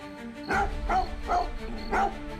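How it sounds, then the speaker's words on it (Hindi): Dog barking in a TV crime drama scene, four evenly spaced barks at close range over a low background hum. "वो हमेशा मुझ पर भौंकता रहता था"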